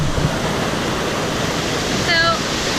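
A steady, loud roar of water rushes continuously at the Mae Sa waterfall in Thailand, close by, with a brief voice-like sound near the end.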